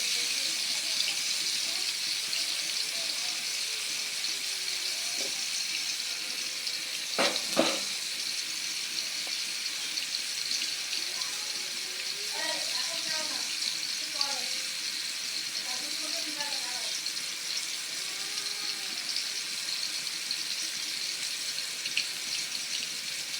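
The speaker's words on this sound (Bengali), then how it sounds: "তো এই মাছটা ভাজা হোক" Koi fish frying in hot oil for a Bengali koi bhuna, a steady broadband sizzle throughout with a brief clatter near the middle and faint voice-like tones underneath.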